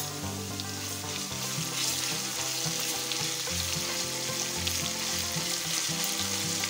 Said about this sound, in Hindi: इसे भी ऑयल में अच्छी तरह फ्राई करेंगे।